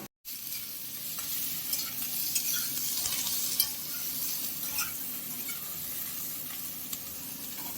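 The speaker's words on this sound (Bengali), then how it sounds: "বেগুনটা সামান্য ভাজার পরে দিয়ে দেওয়া হচ্ছে সিম" Flat beans and brinjal fry together in a pan, giving a steady close sizzle with occasional stirring scrapes and light clinks, and no voices.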